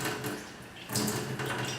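Running water splashes steadily while a Nikken PiMag sport bottle gets a quick rinse, a continuous, fairly close gush that shifts in tone partway through, with no talking.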